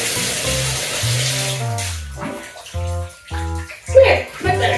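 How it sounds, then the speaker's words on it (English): Water runs and splashes from a tap while hair is soaked, a hissing spray broken up by pauses, with a person talking over it. "So I just soaked my hair as best as I could, and I think it's drenched."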